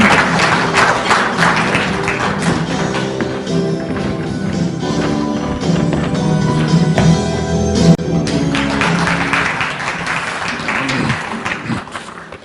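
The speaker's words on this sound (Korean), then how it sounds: "힘찬 박수로 축하드리기 바랍니다" A crowd applauds at a forum launch ceremony, with steady, dense clapping that lasts throughout, loud and sustained without any talk over it.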